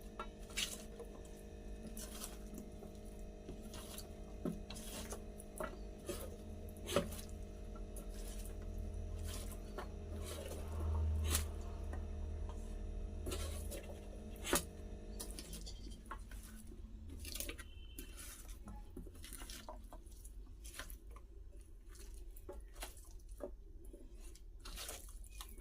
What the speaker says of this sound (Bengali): এবার সব একসাথে মাখিয়ে নিচ্ছি, ঘেঁটে ঘুটে ঘ করে দিচ্ছি।